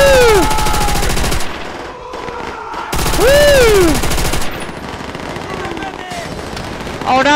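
Call of Duty: World at War battle audio packed with rapid machine-gun bursts and gunfire, loud and continuous, with whistling shell sweeps, dense explosions and a brief lull before the firing resumes.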